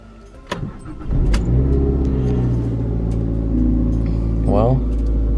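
A used car's engine cranks over and catches, then settles into a steady, loud rumbling idle that runs on continuously, with a brief higher whine near the end.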